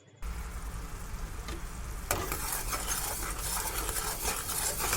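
Sugar syrup heats in a pan and is stirred, giving a quiet bubbling hiss that grows louder and brighter after a sharp scrape about two seconds in, then carries on steadily with no voices.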